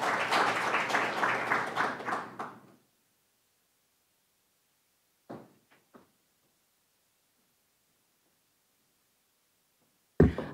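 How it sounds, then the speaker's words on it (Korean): A short burst of audience applause at a National Assembly policy forum in Korea stops abruptly after about three seconds, leaving near silence broken by a few faint knocks and rustles. "박수로 부탁드리겠습니다"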